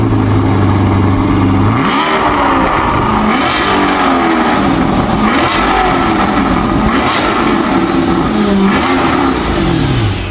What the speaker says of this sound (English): speaking of the exhaust, this car sounds absolutely amazing for a hybrid